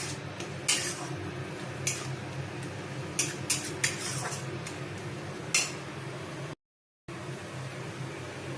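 Spiced masala paste with chilli powder being stirred and fried in a pan, with sharp intermittent clinks of a spoon against the pan over a steady background hum, one brief dropout near the end.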